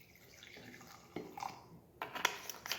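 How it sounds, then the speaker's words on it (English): Acetone nail polish remover poured into the bottom of a cup, a faint trickling splash that comes in small bursts with light drips. "So first we'll fill the bottom of the cup with acetone."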